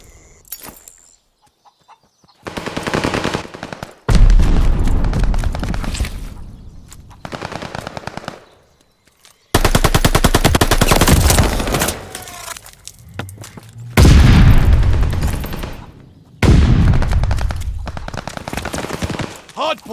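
Gunfire rattles around a hardpoint in the Call of Duty: Vanguard video game, loud automatic bursts lasting several seconds each, separated by short quiet gaps, with game voice callouts heard in between.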